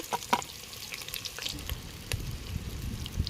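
Thinly sliced large onion fries in hot oil with bay leaves, star anise and cinnamon for a country chicken curry, an uneven sizzle broken by stirring scrapes and clatter, fairly close and with no talking.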